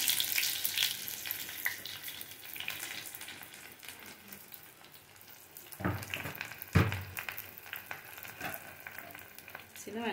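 Quiet, steady sizzle of small onions frying in hot oil for mutton kulambu, with a couple of sharper clattering knocks partway through.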